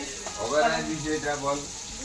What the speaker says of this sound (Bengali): এটা একটু লাল লাল করে ভেজে নিব।